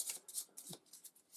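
A deck of cards shuffled by hand during setup for a solo tabletop card game, heard as quick, papery riffling bursts in an uneven rhythm, fairly quiet and close, with no voices.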